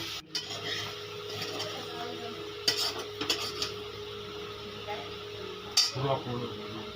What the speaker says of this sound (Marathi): आता आम्ही व्यवस्थित मिक्स करतो आहे